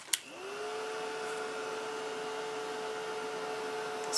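A heat tool drying spray ink on paper switches on with a click and blows a steady, whirring hum that rises briefly in pitch and then holds constant. There are no voices.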